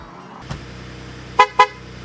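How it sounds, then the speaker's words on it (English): A Ford truck sounds its door-open warning while the engine idles, giving two short, loud beeps in quick succession, with a soft thump just before them. "It has two beeps, and honestly it's so loud and obnoxious"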